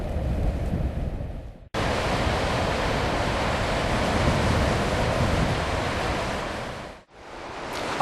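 Broadband surf rolling onto the beach at Rhosneigr on Anglesey, a steady, full wash of breaking waves with wind across the microphone that stops abruptly twice, with no voices.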